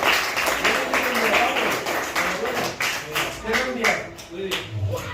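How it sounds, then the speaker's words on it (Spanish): Schoolchildren at a Spanish primary school clapping for a speaker, a loose irregular patter of many small hands, moderately loud, with voices talking through it. "Un aplauso, bien."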